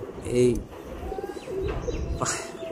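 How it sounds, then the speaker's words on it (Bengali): Domestic pigeons in a village loft give soft, low cooing calls, two short bursts about a second apart over a faint background murmur, with a few light chirps. "আর এখানে দেখতে পাচ্ছেন লাল এই চঙে পায়রা"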